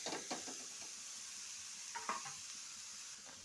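Washed onions sizzle in a pan as their water cooks off, giving a steady soft frying hiss broken by a few light stirring scrapes and clinks of the utensil against the pan.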